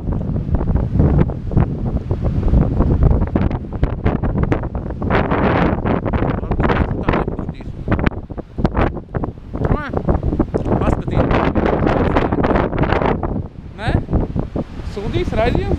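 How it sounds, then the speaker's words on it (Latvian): Heavy wind buffeting the microphone, producing loud, rumbling gusts throughout, with a voice talking underneath at times. "Un droši vien jau neko nevar dzirdēt, jo puš vējš."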